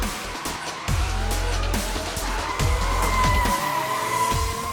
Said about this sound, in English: These guys are driving as fast as they can on really tight roads, less than a foot apart from each other, and going sideways the whole time.